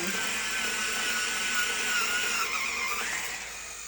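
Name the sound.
sharpening a black oil pastel in a sharpener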